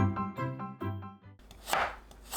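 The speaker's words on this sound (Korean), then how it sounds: "껍질 제거한 우엉은 둥글게 썰어주세요" A knife slices peeled burdock root into thin rounds on a cutting board, a quick run of close, crisp cuts in an uneven rhythm.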